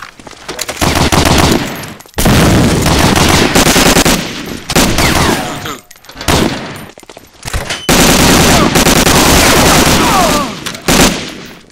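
Grenade explosion and sustained automatic gunfire in a competitive team shooter match, loud dense bursts of rapid shots broken by brief pauses, close and overwhelming, with occasional player voices buried beneath.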